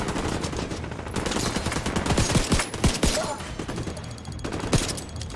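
Rapid bursts of gunfire in Tom Clancy's The Division 2 crackle in volleys, loud and close, with scattered single shots between the fusillades.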